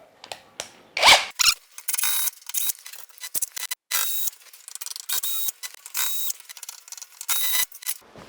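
Metal clicks, ratcheting and scraping come in short irregular bursts as an air conditioner mounting bracket is unfastened and taken down, close and fairly quiet, with no talking.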